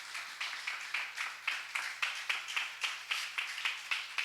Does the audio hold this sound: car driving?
no